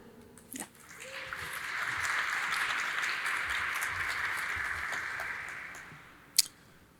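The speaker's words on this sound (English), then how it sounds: "Thank you very much for that applause" Audience applause greets a speaker at a conference talk on JSON Web Tokens, a broad wash of clapping that swells in, holds steady for several seconds and fades, with a couple of sharp knocks near the start and end.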